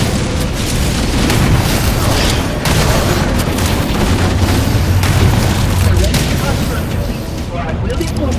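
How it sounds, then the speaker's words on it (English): Explosives destroy a fusion reactor core in Halo: Campaign Evolved, producing a loud, dense barrage of rumbling booms and crackling bursts that barely lets up, with a voice speaking faintly under the din. "Use explosives on the other 3 reactors to destroy their core."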